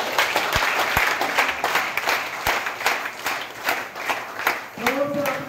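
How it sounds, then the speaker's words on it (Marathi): An audience at a business conference in Thailand bursts into sustained, loud applause, dense hand clapping continuing throughout with a few sharper claps standing out and a voice rising briefly near the end. "सरांसाठी एकदा जोरदार टाळ्या"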